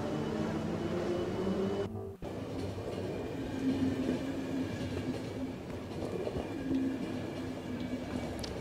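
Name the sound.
train in video game The Final Station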